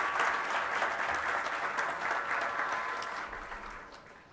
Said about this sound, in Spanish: Siento que esa presentación merece un aplauso.